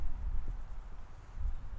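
Hooves thud rhythmically on soft arena footing as a horse canters, a steady muffled beat with low rumble, no voices.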